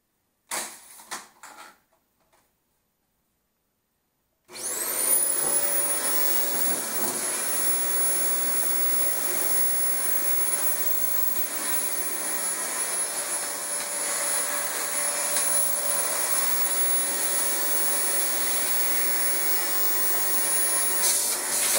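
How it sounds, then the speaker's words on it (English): A Dyson DC25 vacuum cleaner switches on after a few faint knocks and then roars steadily while vacuuming new carpet, a loud high whooshing drone with a thin whine holding for over fifteen seconds. "We'll pick it up with a vacuum hose."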